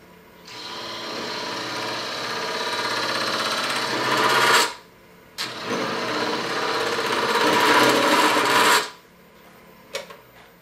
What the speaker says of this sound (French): je vais utiliser l'outil à texturer que j'ai de Robert Sorby et je vais venir lui faire une petite texture dans le bas